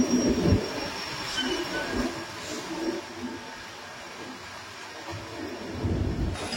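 A train crosses the combined rail-and-road bridge over the Brahmaputra river, a continuous low rumble and metallic rolling drone that swells at the start and end, with no talk.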